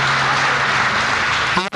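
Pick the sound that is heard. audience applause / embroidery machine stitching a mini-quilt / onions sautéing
audience applause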